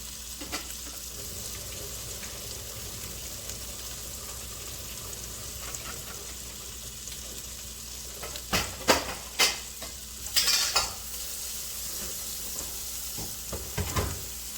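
Chicken fries and sizzles in a pan in a steady hiss, with the clatter of stirring growing busier toward the end.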